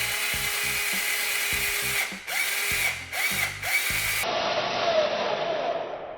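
A power drill drives a self-drilling screw into steel in short bursts, a grinding whir with ratcheting stutters, then a steadier higher whine as the screw bites, close and loud.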